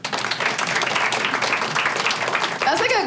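An audience claps and applauds together for a few seconds, a dense burst of hand claps filling the room.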